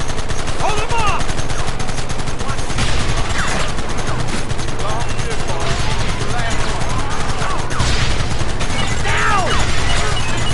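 Dense, sustained gunfire from a Red Dead Redemption shootout, loud and continuous with rapid overlapping shots and bursts, mixed with in-game shouting and other noise throughout.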